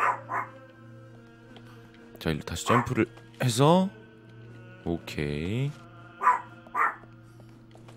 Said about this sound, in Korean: 강아지가 화가 난 것 같아요 이 게임 때문에